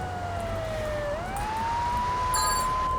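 Fire truck siren in the video game GTA 3 wailing alone, a single clear tone that dips and then climbs steadily, with a brief higher chirp near the end over low engine hum.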